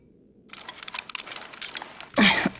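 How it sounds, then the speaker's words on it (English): Fastened sides of a personal frame clicking in the Wii game Fragile Dreams, a burst of small rapid clicks and rattles followed by a louder snap-like crunch, close and clear. "Did you fasten my sides until they made a clicking sound?"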